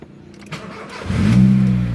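A vehicle engine is cranked with a few clicks and turns over, then catches and settles into a loud, close, low hum of running.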